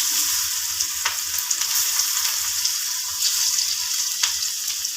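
Onions and spices including asafoetida, garam masala and turmeric frying in hot oil for a Kathiyawadi mango curry, a loud steady sizzle with occasional sharp crackles and spoon taps, no talking.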